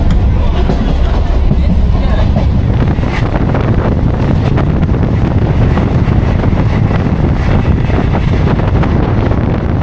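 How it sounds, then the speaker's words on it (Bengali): A train at about 95 to 100 km/h on a single line toward Namkhana roars steadily along with heavy wind buffeting the microphone, a dense, unbroken rush of noise from start to finish. "ট্রেনের গতি দারুণ, প্রায় 95 থেকে 100 কিলোমিটারের মধ্যে গতি আছে।"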